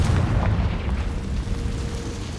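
A Confringo fire-blast spell explodes in Hogwarts Legacy, a loud, deep rumbling boom that swells at once and rolls on heavily for a couple of seconds without fading much, no voices over it.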